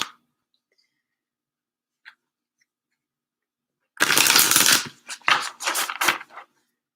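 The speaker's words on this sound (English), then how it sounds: "Shuffling those cards." After near silence with a couple of faint ticks, tarot cards are shuffled in several quick riffling bursts, close and crisp.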